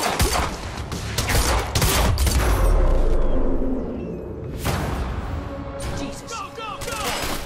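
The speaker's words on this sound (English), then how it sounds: "Opening fire!" Dense bursts of gunfire and heavy shots rip through a tense video game firefight, loud and sustained over several seconds with shouted voices mixed in.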